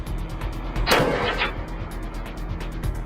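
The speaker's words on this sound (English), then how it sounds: "The shot was aimed at the soldier's heart, but he survived thanks to his body armor." A sniper rifle shot striking a soldier's ceramic body armor plate, a single sharp loud crack with a short burst of noise, amid a steady rhythmic background rumble and no speech.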